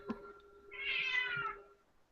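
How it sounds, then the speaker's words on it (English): A hungry house cat meows once in the background, a single drawn-out cry rising and fading over about a second, faint and distant with a quiet room around it. "Is there Third. a cat crying in the background somewhere?"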